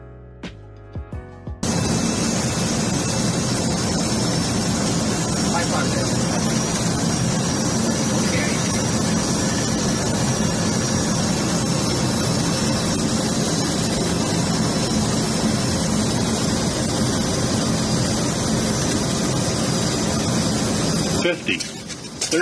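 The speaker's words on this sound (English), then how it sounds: "this is a cockpit view of the Boeing 737-200 landing" Steady, loud broadband roar inside the cockpit of a Boeing 737-200 during landing, engine and airflow noise filling the whole stretch with a few faint knocks, cutting off abruptly near the end.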